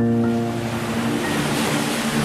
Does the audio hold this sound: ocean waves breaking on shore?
yes